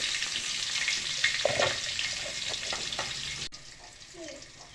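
Onions and fennel seeds frying in hot oil, a close hissing sizzle with light stirring scrapes that cuts off abruptly near the end, leaving quieter background.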